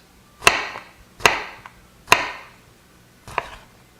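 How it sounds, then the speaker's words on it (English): A knife chops through stacked cucumber planks into julienne sticks on a cutting board, giving four crisp, separate thunks spaced about a second apart, close and clear, with no talking. "We'll cut that into planks, stack up the planks, and cut the planks into sticks."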